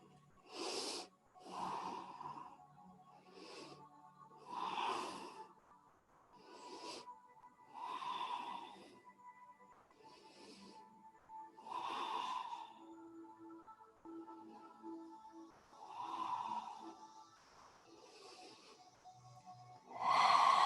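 Slow, steady yoga breathing, with soft inhales and exhales repeating at a calm, even pace, close up and quiet, with no other sound around them.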